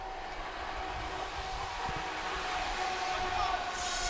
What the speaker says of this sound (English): and now a southbound freight train.